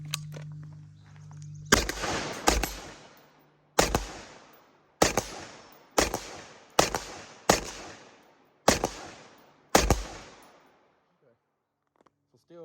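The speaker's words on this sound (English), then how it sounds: "Let's go ahead and shoot around the house a little bit." Rifle shots fired through a Sig Sauer TANGO-MSR 1-10x28 LPVO setup: eight sharp, loud reports spaced roughly one second apart, each with a decaying echo, following a low hum at the start.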